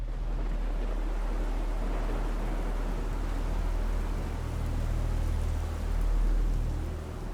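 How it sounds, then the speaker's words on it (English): Heavy downpour at Barber Motorsports Park during a MotoAmerica Superbike weekend, a steady dense hiss of rain with a deep low rumble throughout, loud and continuous with no talk. "all of a sudden the sky opened up and started raining on us"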